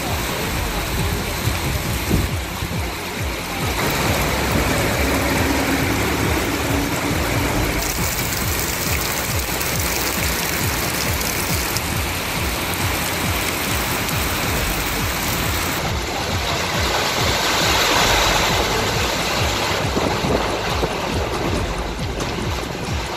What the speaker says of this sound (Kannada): ಮೂಡಿಗೆರೆ ತಾಲೂಕಿನ ಬೈರಾಪುರ, ಕೊಟ್ಟಿಗೆಹಾರ, ಬಾಳೂರು ಸುತ್ತಮುತ್ತ ಭಾರಿ ಮಳೆ ಆಗ್ತಾ ಇದೆ.